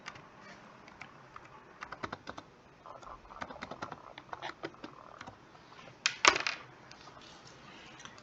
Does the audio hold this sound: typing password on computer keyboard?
yes